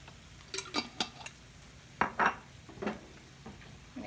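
Utensil scrapes and clinks against a dish as marinara seasoned with basil, pepper and oregano is stirred, a few short close knocks and scrapes separated by quiet pauses.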